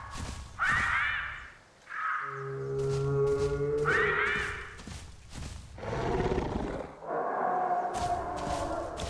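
Deep, drawn-out T-Rex roars in the video game The Isle repeat several times, some rumbling and tonal, others harsh and growling, loud and close with whooshing movement between them.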